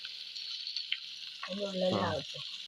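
Fish frying in a pan with green coconut oil drizzled over it, giving a steady bright sizzle throughout and a louder burst of crackling near the end, with a voice speaking over it.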